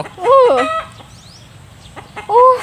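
A jungle fowl rooster close by, giving loud, sharp clucking calls in two bursts with a quieter stretch between them and faint background sounds.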